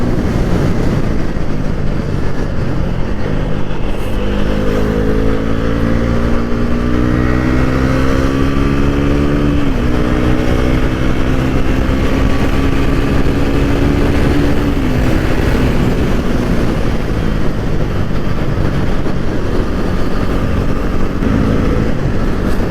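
A Bajaj Pulsar NS400z motorcycle engine while riding, cruising around 5000 RPM, a loud, steady drone with pitch rising and settling as the throttle shifts, with wind noise and no voices.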